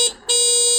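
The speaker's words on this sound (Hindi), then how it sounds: "इसके अलावा ये साथ हॉर्न है" An electric scooter's horn, Eveon Leopard model, gives a shrill electronic beep, briefly breaks off, then sounds again loud and close.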